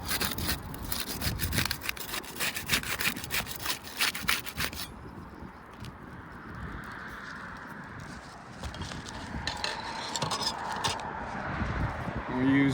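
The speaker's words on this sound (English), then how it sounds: "We'll use the putty knife to unseal the top shingle." A putty knife pries and scrapes under a roof shingle to unseal it, giving close, rough scraping and rubbing strokes that are loudest early on and ease off into quieter handling noise.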